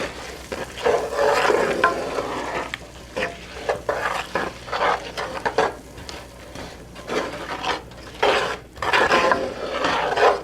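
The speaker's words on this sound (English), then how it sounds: "I'm going to mix all that up." Seasoned onions for Thanksgiving bread stuffing being stirred in a pan, giving uneven rubbing and scraping strokes over a soft sizzle, fairly quiet and close, with no one speaking.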